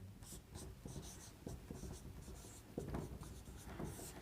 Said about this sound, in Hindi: एक वर्ड लिख देते हैं